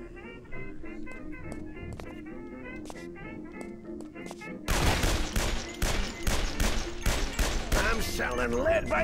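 Heavy gunfire from the video game Guns, Gore & Cannoli, a dense burst of rapid shots that breaks out midway after quieter clicking game sounds, loud and continuous to the end.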